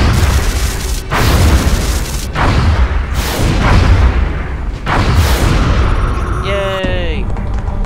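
A UFO shot down in XCOM, heavy booming blasts rolling one after another and then a falling whine, loud and close, with radio chatter over the top.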